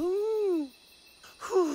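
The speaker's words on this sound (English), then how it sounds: "Trunk's snoring." A cartoon elephant snores in a drawn-out, wavering moan that falls away, a pause, then a second rising snore begins; loud and close, with no talking.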